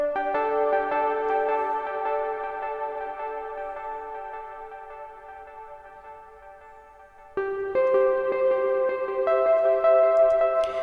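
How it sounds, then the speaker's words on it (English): Sustained synthesizer lead from a Moog Sub 37 in an ambient track, layered over pads, with a held tone fading slowly before a brighter, louder phrase enters near the end; no voices. "this lead sound is I think the most important element of this track. It sounds like this."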